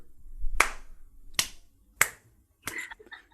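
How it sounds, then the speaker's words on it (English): Four sparse, separate hand claps from a small event audience, widely and unevenly spaced like a slow, awkward clap, fairly crisp and close with no talking. "Please put your hands together."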